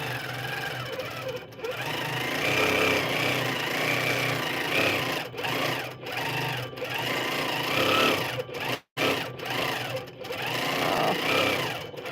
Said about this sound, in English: Just do a little more free motion so you can just see kind of how the machine runs.